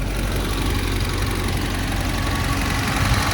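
A 1988 Alfa Romeo Spider Quadrifoglio engine idles steadily with the hood up, a light mechanical clatter riding over the low, even rumble throughout.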